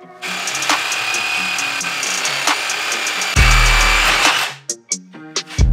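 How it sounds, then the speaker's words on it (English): A reciprocating saw fitted with a metal blade cuts through a part on a rally and autocross Miata, giving a loud, steady, close-up buzzing grind for several seconds. It cuts off abruptly, followed by a few short clanks. "a sawzall with a metal blade on it"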